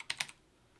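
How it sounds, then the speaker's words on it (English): Several quick keystrokes on a computer keyboard, three or four close clicks in under half a second, quiet and alone with no voices. "Let me type"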